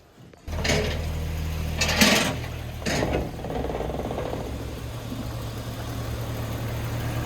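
A lifted Jeep Cherokee XJ with newly fitted axles, suspension, wheels and tires sets off on a test drive, its engine a steady mid-pitched drone with a couple of brief louder bursts early on.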